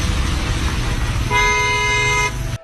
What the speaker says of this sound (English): The car he cuts in front of even beeps loudly